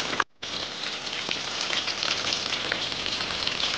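Scallion and ginger sizzle and crackle in hot oil in a wok beside dried pufferfish, a steady dense frying hiss after a brief cut of silence near the start.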